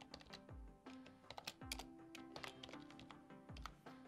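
Keys clatter in quick, irregular bursts of typing on a computer keyboard while text is entered into a design program, with a few heavier thumps mixed in; close and fairly quiet, with no talking.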